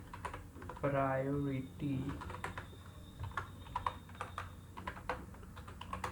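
Rapid, light keystrokes tap on a computer keyboard while code is entered, close and quiet, scattered through the clip after someone briefly speaks.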